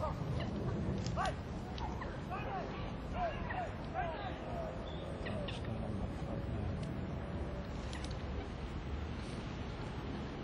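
Geese honk in scattered calls at a lake on Mitcham Common, heard at middle distance over a steady bed of wind and outdoor noise.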